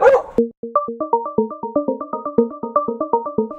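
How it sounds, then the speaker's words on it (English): A dog barks repeatedly in a quick, steady run of sharp, tonal barks, close and loud, after a brief noisy start. "Haley, she has a thing for barking at SUVs."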